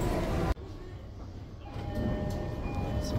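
A Japanese passenger train rolls along with a low steady rumble and hum, quiet after a sudden cut from louder noise, with soft voices underneath.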